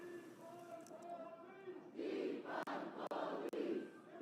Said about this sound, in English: You can probably hear them chanting in the background.